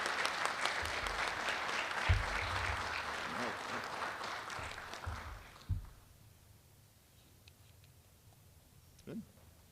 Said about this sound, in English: Let's give this group of students a nice round of applause.